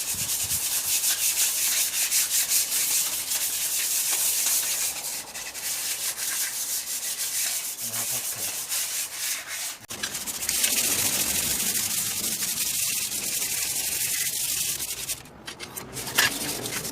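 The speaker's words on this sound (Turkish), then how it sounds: "Çizmez mi lan bu zımpara? Çizer zaten." Continuous back-and-forth sanding by hand with sandpaper on a bicycle, a harsh rasping scrape close by, with brief pauses and shifts in stroke.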